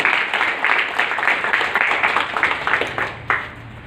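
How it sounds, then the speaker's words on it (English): Audience applause after a speech at an Arya Samaj gathering, a small group clapping steadily at moderate loudness and tapering off toward the end. "please join me in giving you a round of applause for your efforts."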